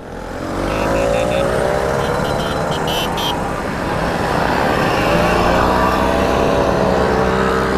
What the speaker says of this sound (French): Il y a de la grosse mobilette hein. Voilà, ça roule entre 20 et 30 km/h.